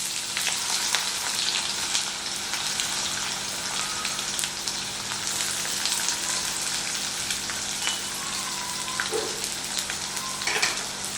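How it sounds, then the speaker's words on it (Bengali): Chopped onion sizzles steadily in a pan after a fried spice tempering for paneer bhurji, a continuous close crackling hiss with occasional small pops, no talking. "পেঁয়াজটাকে কিন্তু খুব ভালো করে ভেজে নিতে হবে।"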